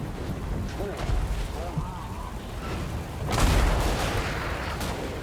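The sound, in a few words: brimstone guns firing in Warhammer video game battle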